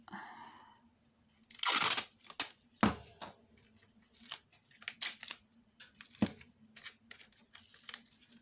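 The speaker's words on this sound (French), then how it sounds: "Alors du scotch, hop," Adhesive tape is pulled off a roll and torn in sharp, crackly bursts, close and fairly quiet, with softer handling rustles between the pulls.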